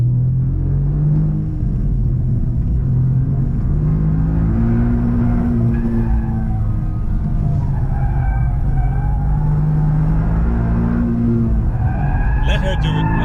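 A Toyota Yaris GR rally car drives hard with a loud, continuous engine roar that rises and falls, tyres hiss and squeal on the surface, and people talk excitedly over it.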